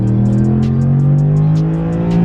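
Truck engine revving hard under load during a street test of a 65RFE transmission torque converter lockup, a loud, steady low drone that rises slowly in pitch throughout, with faint high ticks above it.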